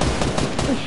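Gunfire in an online shooter video game: a dense, rapid burst of shots fills the whole brief moment at steady, loud volume.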